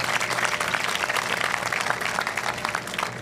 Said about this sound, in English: So, round of applause for those great Americans.